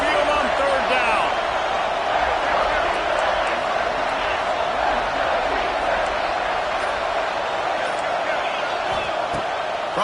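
A loud home crowd roars down onto Saban Field on third down during a football game. The roar is dense, unbroken and fills the whole stretch.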